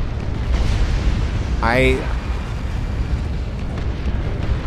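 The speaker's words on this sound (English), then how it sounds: "Here we have a rocket run." Rocket run explosions in Dawn of War II: Retribution rumble as a dense, steady roar of blasts and booms, with a brief rising whistle partway through, loud and continuous.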